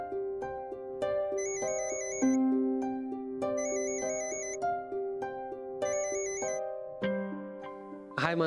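A phone ringtone plays a repeating melodic pattern of bright electronic tones, cycling roughly every two seconds, alone and fairly clear, during a call in a domestic scene.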